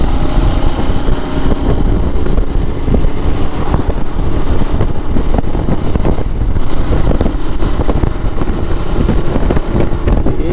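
Heavy wind roar buffets the microphone while a new 2025 KTM Adventure 250 motorcycle is ridden on a test ride, its engine hum largely buried beneath the loud, constant rush of air.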